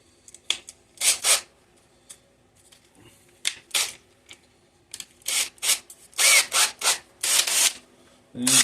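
Abrasive 60-grit foam sanding pad rubbing against the top of a wooden urn spinning on a lathe, in repeated short bursts of scratchy friction that grow longer and more frequent toward the end.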